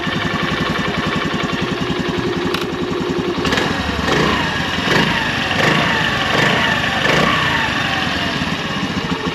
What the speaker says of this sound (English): and our motorcycle is running